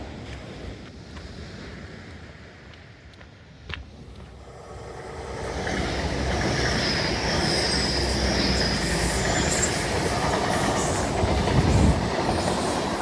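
A train rolls past, its rumble swelling from quiet to a steady loud roar with metallic wheel squeals near the end.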